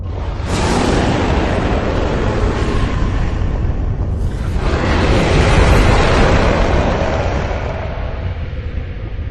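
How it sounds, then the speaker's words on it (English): A huge, rushing roar of a dragon in a PS3-era video game swells and sustains, breaking off for a moment before a second long, noisy bellow that trails slowly away; no voices. "The roar of the dragons in this game sounds so strange."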